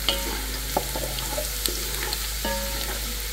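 Onion frying in a cooking pot, a steady close sizzle with a few sharp pops and stirring scrapes over the crackle.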